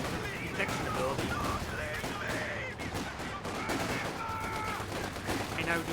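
Gunfire crackles in a Company of Heroes 2 match as Sturm Pioneers and Panzer Fusiliers fight around a building, with scattered bursts and volleys under constant game effects and a caster talking over them.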